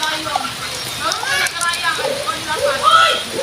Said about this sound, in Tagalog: Agad ulan, lakas ang ulan.